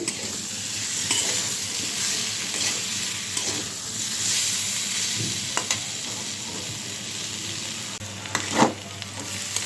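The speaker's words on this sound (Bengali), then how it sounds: "তো আলু আর পেঁপেটা আমার কষানো হয়ে গেছে" Potato and papaya sautéing with spices in a pan give a steady, close sizzle, broken by scraping stirs and a sharper clatter near the end.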